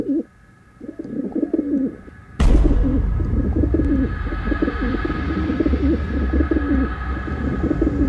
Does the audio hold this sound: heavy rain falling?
no